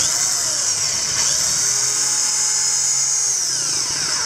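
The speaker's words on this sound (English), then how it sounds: "I've already fitted my drill here with a suitable size hole saw" Power drill fitted with a hole saw cutting into a plastic bucket, a steady high-pitched whine with a constant grinding buzz that holds unbroken and loud throughout.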